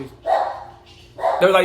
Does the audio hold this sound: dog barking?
yes